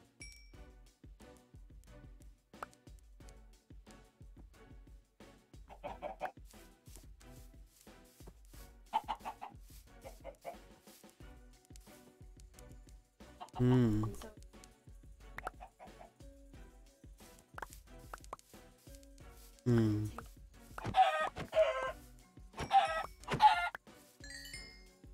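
Chickens in Minecraft cluck in short scattered bursts from a coop, mostly quiet with a few louder clucking runs near the end, sounding moderately close.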